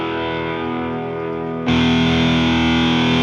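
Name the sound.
electric guitar through distortion pedal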